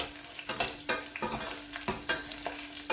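Red chillies fry in a pan for chilli garlic chutney, a steady close sizzle broken by repeated scraping stirs of a spoon against the pan, with a faint constant hum beneath.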